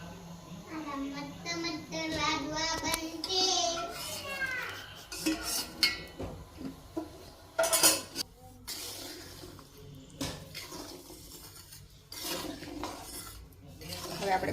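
Someone talks while sugar syrup is poured into roasted flour, followed by uneven scraping and clinking as a spoon stirs the mixture in a pan close by.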